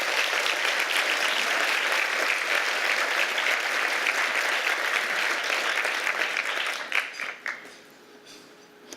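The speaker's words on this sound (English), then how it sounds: "Let's applaud that accomplishment." An audience at an annual breakfast awards event breaks into sustained, dense applause, loud and even for several seconds before tapering into a few scattered claps and fading out.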